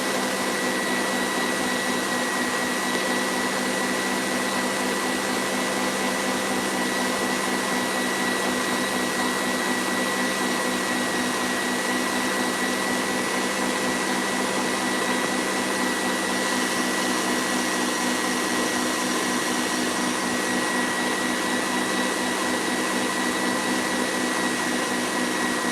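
An electric mixer whips macaron batter in a home kitchen, a loud, steady, unbroken whine that runs the whole time with no pauses and no voices over it.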